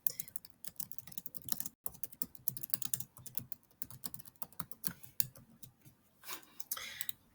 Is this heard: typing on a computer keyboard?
yes